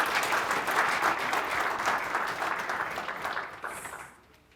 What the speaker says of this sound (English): let's give a round of applause for Carter G.